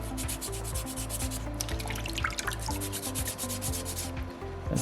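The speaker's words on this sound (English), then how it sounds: "that's going to help hold my sandpaper on track, and I can be a little bit more aggressive" Sandpaper rubs steadily across a small soapstone Moai carving in quick, close strokes, with a continuous gritty scratching and no talking.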